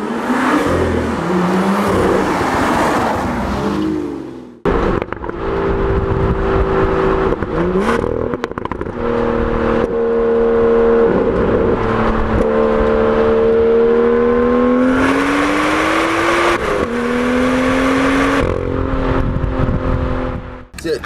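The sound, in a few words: BMW M2 active exhaust revving in Sport Plus mode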